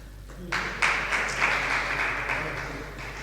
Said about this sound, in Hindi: आप अपने ऊपर ताली बजा रहे हैं